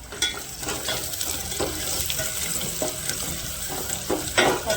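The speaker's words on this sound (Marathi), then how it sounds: "कांदे हिरवी मिरची टाकून घेतली आहे छान आता खरपूस लाल भाजून घ्यायचं" Onions and green chillies sizzle steadily in hot oil for a biryani, a dense continuous crackle broken by occasional scraping stirs, close and fairly loud with no talking.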